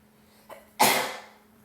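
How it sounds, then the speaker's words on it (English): A Baldur's Gate game character gives a single sharp sneeze after a soft inhaling catch, close and loud, then trails off into near silence. "sneezing coming."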